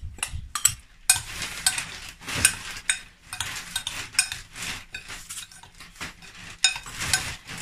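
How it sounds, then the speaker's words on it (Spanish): Spoon scraping and clinking in a bowl while condensed milk is mixed with ground almonds and biscuit for no-bake almond bonbons, a series of short, close, uneven stirring clatters with no talking. "Y ya vamos a mezclar la leche condensada."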